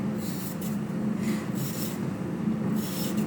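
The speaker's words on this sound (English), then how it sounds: "Notice that I'm peeling it" A vegetable peeler scrapes along a vegetable in a kitchen, several close, rasping strokes in quick succession with short gaps between them.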